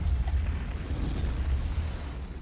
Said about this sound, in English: Okay, let's engage these two engines. The thud. Throttle is down, activate engine.